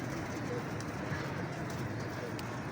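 A pigeon coos softly amid steady background noise at a bird dealer's loft in Lahore, low and continuous without clear breaks.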